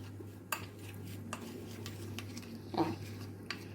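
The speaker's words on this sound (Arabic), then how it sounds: "طبعا هتقلبيه اهو زي ما انت شايفاه" A spoon stirs a yogurt face mask in a small bowl, with occasional light clinks of metal on the dish and one louder scrape near the end, fairly quiet and steady.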